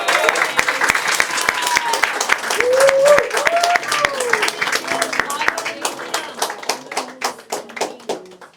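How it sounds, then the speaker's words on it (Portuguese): Church congregation at a Portuguese-language service giving a round of applause, many hands clapping while voices talk and cheer over it, then the clapping thins into a few separate rhythmic claps toward the end. "Uma salva de palmas."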